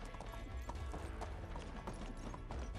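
Horse hooves clip-clop steadily and fairly faintly under a constant hiss of game ambience while riding in the medieval survival game Medieval Dynasty.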